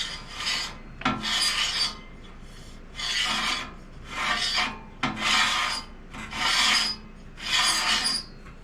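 Rasping, scraping rubs from loose parts on a Central Machinery 14-inch bandsaw with a bent wheel, in a regular rhythm of about seven separate strokes with short quiet gaps between them.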